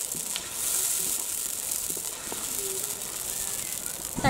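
Onion and tomato paste sautéing in a pan for quail gravy, a soft steady sizzle with occasional faint scrapes and clicks, moderately quiet throughout.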